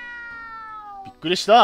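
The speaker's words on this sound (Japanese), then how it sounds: "今あっちから猫の鳴き声がしたような。" A cat meows in a horror video game, one long, drawn-out, slightly falling cry with a clear tone that fades out. A person then speaks loudly in a brief startled exclamation.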